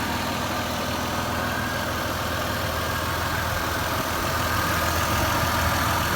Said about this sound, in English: just checking how the vehicle is running nice and smooth